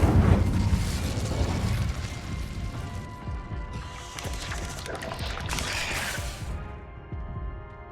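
Incendio, the fire spell in Hogwarts Legacy, bursts out with a loud fiery whoosh and crackle at the start, followed by rattling mechanical clanks and a shimmering magical tail that fades out.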